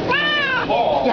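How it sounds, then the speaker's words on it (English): Cartoon cat meow sound effect played by a children's coding program: a single clear, close meow with a rising-then-falling pitched cry, loud and alone. "Since it reaches something between 30 and 0, this cat will turn into another one and it'll meow."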